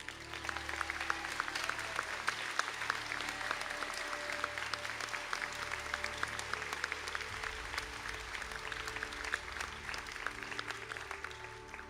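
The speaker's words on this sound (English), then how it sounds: "please stand for a round of applause" Audience at a college conferring ceremony applauding steadily, a dense, even wash of many hands clapping for the full stretch at moderate level, with no voices over it.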